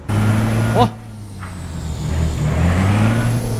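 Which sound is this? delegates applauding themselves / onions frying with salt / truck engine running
truck engine running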